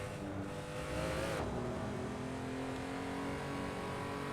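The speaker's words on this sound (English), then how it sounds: "It's not bad as synthesized car noises go." Synthesized BMW race car engine from a sim racing game at Road Atlanta, a steady droning tone that climbs and then shifts pitch around a gear change, loud and continuous with no talking over it.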